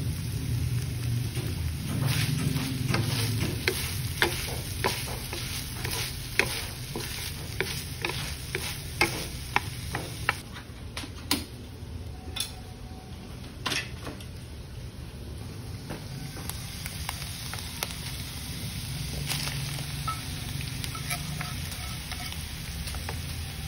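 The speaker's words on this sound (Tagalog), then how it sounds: "We're gonna add the mushroom" Mushrooms are stirred into ground beef frying in a pan, with a steady loud sizzle and scattered clicks and scrapes of a utensil against the pan throughout.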